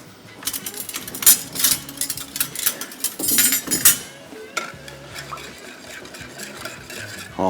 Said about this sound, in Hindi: इसके बाद हम इसको अच्छी तरीके से पहले मिक्स करेंगे